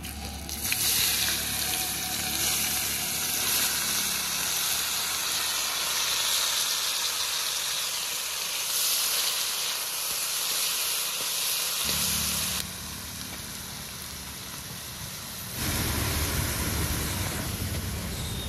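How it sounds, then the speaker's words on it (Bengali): Onions sizzle and crackle steadily in a hot pan of oil for a shahi mutton dish, a dense, close frying hiss that dips in volume partway through, then swells again, with no talking. "পেঁয়াজ লাল লাল করে ভেজে নিয়েছি"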